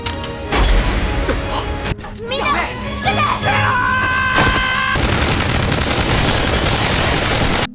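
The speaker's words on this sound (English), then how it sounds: "Nagumo eliminates Captain Meld and eliminates the surrounding guards with his machine gun" Machine gun bursts from an anime battle scene, rapid gunfire mixed with crowd shouting and a busy soundtrack, loud and dense throughout.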